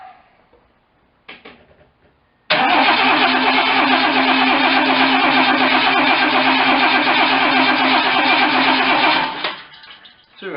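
An MGC GT engine cranks and catches at once, then runs loud and steady for about seven seconds before shutting off. Faint handling clicks come before it.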